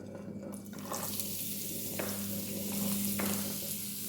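Carrot sizzles in hot olive oil in a pan, a steady close frying hiss with a few soft stirring scrapes and taps over it.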